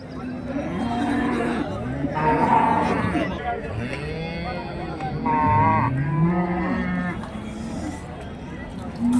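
Cattle at a livestock market in Karimangalam, Dharmapuri district, where dairy and pregnant cows are traded, low moos sounding repeatedly close by amid crowd chatter and people talking.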